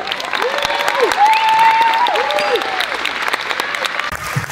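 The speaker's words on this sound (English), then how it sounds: "a round of applause for our boys on stage" Sustained applause from an audience at an IFBB Pro bodybuilding show, greeting the men's physique competitors on stage, with cheering and whistles rising over steady clapping.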